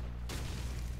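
Grenade explosion in Call of Duty 4, a sudden loud deep boom after a quiet moment, followed by a sustained rumbling roar that fills the rest of the short moment.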